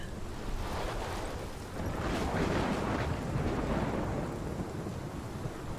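A thunderstorm in the video game Life is Strange Remastered rumbles with a broad, steady wash of rain and low thunder, swelling slightly midway and filling the whole stretch without speech.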